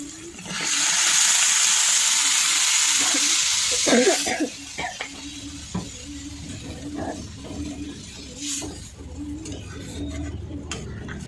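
Water poured into a hot pan of spiced prawns and potatoes gives a loud, steady hiss for about three seconds, then settles into a quieter bubbling simmer with faint clinks.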